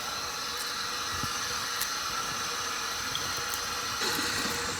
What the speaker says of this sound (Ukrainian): Змиваємо даний продукт до прозорої води.